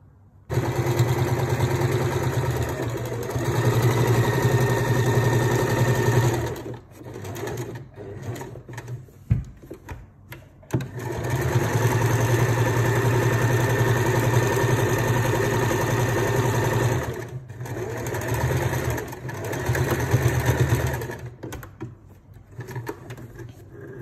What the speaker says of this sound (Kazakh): мен арнайы трикотажға арналған инемен тігіп жатырмын